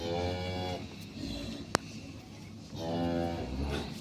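A Holstein Friesian dairy cow on a farm gives two long, loud moos, one at the start and one near the end, with a brief sharp click between them.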